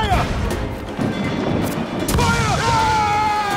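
Heavy ship cannons boom repeatedly in a naval battle in Assassin's Creed 4 Black Flag, with loud thuds and crashing impacts over roaring sea noise while someone talks over them.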